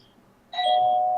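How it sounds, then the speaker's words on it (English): Doorbell rings once with a clear two-tone chime that starts abruptly after a quiet moment and rings on steadily to the end. "Oh God, doorbell."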